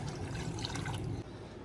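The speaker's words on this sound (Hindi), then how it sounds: "दूध काफ़ी गाढ़ा है तो थोड़ा सा पानी इसमें ऐड करेंगे हम।" Water pours steadily into milk in a kettle with a continuous splashing rush that eases off near the end.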